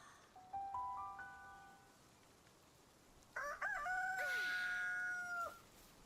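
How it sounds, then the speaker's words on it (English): Rooster crowing in the Palworld video game, heard as two separate calls: a short, fairly faint cock-a-doodle-doo near the start, then a louder, longer crow a few seconds later over quiet background. "Why is there rooster sounds when there are no roosters in this game?"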